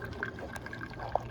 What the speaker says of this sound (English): now I just got the garden hose running